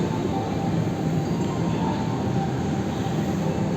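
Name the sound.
KA Cikuray train shunting into Pasar Senen station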